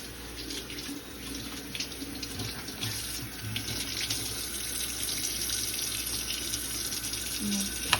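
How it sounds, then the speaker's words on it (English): Green onion stalks are rinsed under a running kitchen tap, giving a steady, moderate splash of water into a sink throughout, with no talking. "green onions, and we're going to do 2 stalks. You want to wash that."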